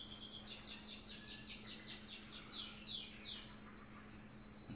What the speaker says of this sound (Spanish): Se han puesto a cantar los pájaros.